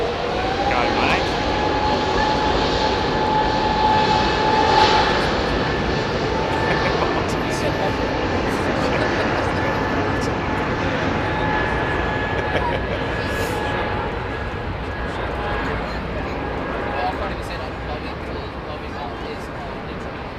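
Etihad airliner jet at London Heathrow Airport, a steady broadband engine roar that holds throughout, fairly loud and slowly easing toward the end, with faint chatter in the background.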